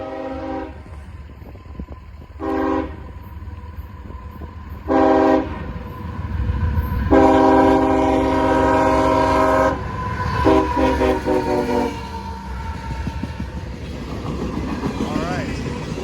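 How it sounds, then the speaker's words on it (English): CSX eastbound freight train on the line at Lake Avenue, Blasdell, New York, sounding its horn in several blasts: two short, then a long sustained blast, then more, over a steady rumble of passing rail cars, close and loud. "we got a CSX Eastbound train coming down the line"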